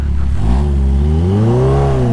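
A Kawasaki Ninja H2 motorcycle engine revs loud and close, its exhaust note climbing steadily in pitch as the throttle opens, with no voices over it.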